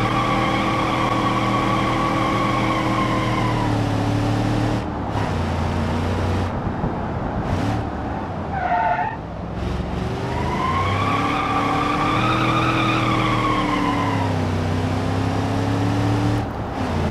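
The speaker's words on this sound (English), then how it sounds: "if you press the throttle, this will result in a wheel spin" A racing video game car revs hard on a corner exit, its engine whine climbing and dropping through gear changes while tires spin and squeal against the pavement, loud and continuous with no voices.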